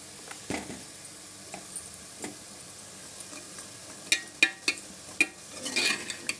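Prawns and vakkaya pieces in a curry being stirred in a pan, soft sizzling under scattered clinks and scrapes of a spoon against the pan, growing busier toward the end.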